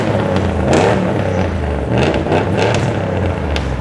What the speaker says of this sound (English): very loud truck going on right there.